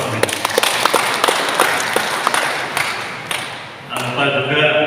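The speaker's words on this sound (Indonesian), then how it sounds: "Aplaus buat Prof. Robin." Audience applause for Prof. Robin at a talk on religious moderation, a dense burst of many hands clapping that tapers off, with a short sustained tone rising near the end.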